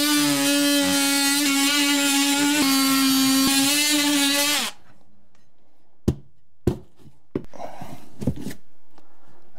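An oscillating multi-tool cuts a small square out of a drywall wall, giving a steady loud buzzing drone for about five seconds before it stops, followed by a few sharp clicks and knocks in a quiet room.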